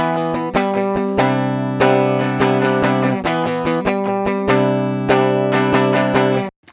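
Clean, dry electric guitar strums a choppy rhythm part, repeated chord hits in a steady pattern, close and unprocessed, ending abruptly.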